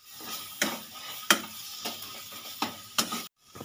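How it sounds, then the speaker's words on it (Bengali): Minced chicken paste with garam masala powder fries in a pan while a spatula works through it. Sharp scraping strokes recur about every half second to second over a soft sizzle, close by. "এদিকে চিকেনটা কষা হতে থাকছে।"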